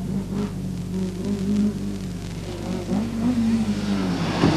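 A Vauxhall Chevette rally car drives through heavy rain on a 1982 Circuit of Ireland stage, its engine a steady, loud drone that rises and falls as it works through the conditions, with wet road hiss around it.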